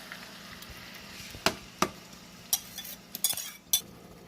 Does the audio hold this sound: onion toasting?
yes